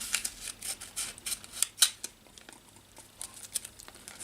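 Scissors snipping through paint mask film for a Tamiya Subaru 2008 WRC TT02 RC car body, a close series of sharp crisp cuts and small crinkles at an uneven rhythm, with no talk.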